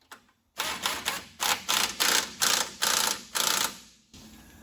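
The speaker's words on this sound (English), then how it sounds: "the speed of this gun turns that nut down" An air impact gun runs down a nut against a lock washer on a 1975-79 Nova engine mount, firing in about eight sharp, close bursts with short gaps between them.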